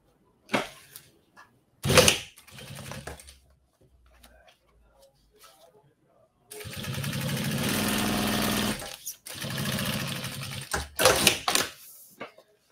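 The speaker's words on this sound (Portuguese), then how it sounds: "E vou passar uma costura reta aqui." A sewing machine runs a straight seam along a zippered cosmetic pouch with a clear visor, two sustained bursts of steady mechanical whirring separated by a short pause, close and fairly loud, with a few handling clicks and knocks before and after.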